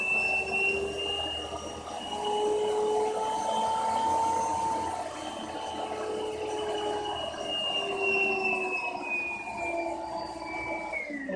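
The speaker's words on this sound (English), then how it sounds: "the vacuum kept revving and whatever you call it, kept revving up and lowering the speed up is slowing down as I was changing the setting on there" Vacuum cleaner driven through a hair-dryer dimmer switch, its motor whine gliding up and down in pitch as the speed is changed, moderately loud with no talk.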